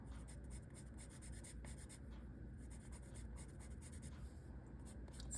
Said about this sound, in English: Just using slightly heavier pressure with my colored pencil and rotating it in my hand.